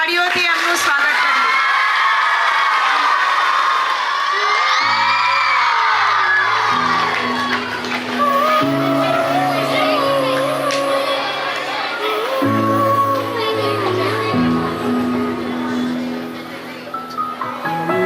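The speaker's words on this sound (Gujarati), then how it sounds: "જોરદાર તાળીઓથી એમનું સ્વાગત કરીએ" Crowd at a school Independence Day celebration cheers and whoops loudly for a Standard 7 and 8 students' dance performance, shouts and yells continuous throughout, with a song's steady musical tones entering beneath partway through.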